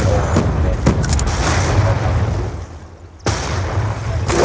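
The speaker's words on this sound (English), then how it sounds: "I'm going to throw a nade back." A grenade blast in an online shooter match rolls out as a loud, dense roar for over two seconds, drops briefly, then slams back in with another heavy burst, with faint team chatter beneath.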